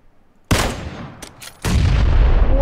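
A grenade blast in the PUBG battle royale game: a sudden sharp boom after near silence, a brief lull, then a second loud burst rolling into sustained rumbling noise.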